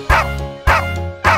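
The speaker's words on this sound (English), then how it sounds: "There was a farmer, had a dog, and Bingo was his name" A cartoon-style dog barks three times at an even, steady pace in a nursery rhyme about a farmer's dog; each bark is loud, close and clear, with no singing over it.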